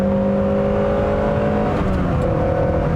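A 1999 Honda Prelude Type SH engine revs steadily upward through its VTEC crossover, a loud, sustained, rising drone heard close up with no voices.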